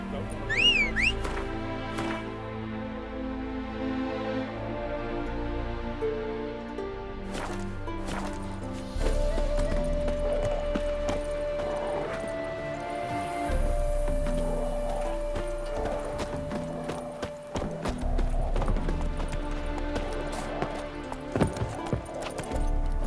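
Horse hooves clip-clop in a steady galloping rhythm in the video game The Witcher 3: Wild Hunt, running for over twenty seconds beneath game music, whistling tones and an occasional whinny.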